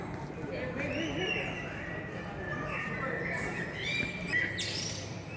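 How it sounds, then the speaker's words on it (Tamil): Birds in Eden Park, England, chirp and call in faint, scattered tweets over a steady outdoor hiss, with a few brighter calls near the end. "பறவைகள் கூட இருக்குது நிறையா."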